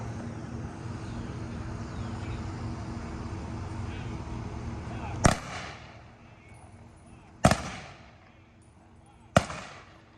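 A rifle squad fires a memorial volley salute at a VFW post ceremony: three loud, sharp outdoor gunshot volleys about two seconds apart, each ringing out with an echoing tail over a low background murmur.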